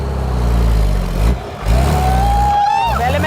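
A bus engine that had been buried underground for months, revving and idling as it is shifted into reverse. A steady loud rumble dips briefly, then returns with a rising whine, and someone talks over it.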